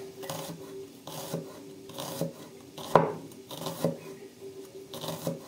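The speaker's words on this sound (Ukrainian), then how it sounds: "Полукольцями такими, ну, тоненько цибульку різати." A knife slicing onion thinly into half-rings for a fresh cabbage salad, giving a steady series of soft rasping cuts roughly every half second, with one sharper knock near the middle, close and moderately quiet.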